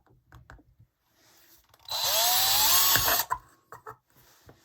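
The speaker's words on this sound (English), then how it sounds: "now I want to drill a hole in the centre of this lid" A drill bores a hole through the centre of a craft lid that is still slightly wet. Near, loud whirring lasts about a second and a half and starts after a few soft handling knocks, with more clatter following.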